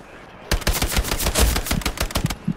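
A grease gun fires in Hell Let Loose, a World War II shooter, in a loud, close, rapid burst of automatic shots lasting about two seconds after a brief quiet start.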